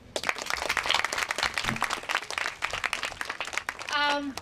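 Applause from an audience at a talk on stories of endurance and survival, a dense patter of clapping running through the clip, with a voice briefly rising near the end.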